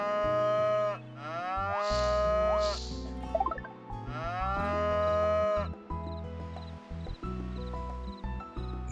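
A cow in the Harvest Moon Home Sweet Home farming game gives several long, tonal moos in a row, clear and close, over a plinking background tune with no voices.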